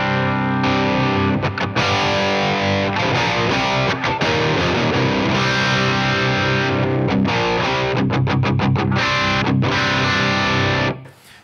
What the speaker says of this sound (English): let's just take the compressor out of the equation and let's listen to the tube screamer.